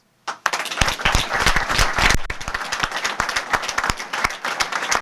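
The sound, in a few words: loud applause to thank Džoko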